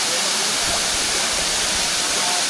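A waterfall near Port Barton, its river running muddy after landslides, gives a loud, close, unbroken roar of rushing water with no pauses.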